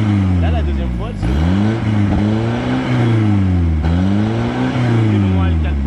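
Volkswagen Golf 3 GT 110 in poor condition accelerating hard, its engine note climbing through rising harmonics, dropping at a gear change and climbing again, loud and close with talk over it.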